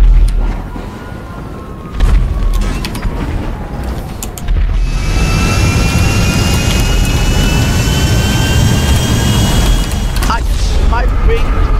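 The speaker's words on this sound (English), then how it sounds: "Yo, look at my jet, though." Jet engine in GTA 5, a steady loud roar with whistling high tones that rises after a brief quieter stretch and then holds level to the end, with voices talking over it.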